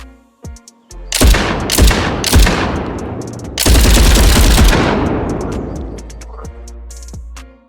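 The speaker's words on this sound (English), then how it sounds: "tapping fires a shot, while holding it down triggers continuous fire." Gunfire in the mobile shooter game Glory Frontline: a few single shots, then loud bursts of continuous automatic fire with rattling reports that ring out and fade, ending in a couple of sharp clicks.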